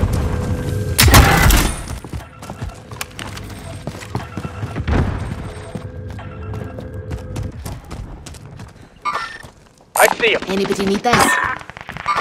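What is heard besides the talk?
gunfire in Call of Duty: Modern Warfare video game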